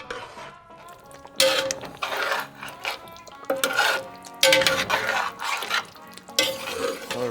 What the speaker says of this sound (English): You just gotta stir it in real well and just let it simmer for a little while longer